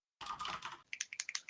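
Rapid clatter of typing on a computer keyboard, a quick run of distinct keystrokes that follows a brief burst of broad noise.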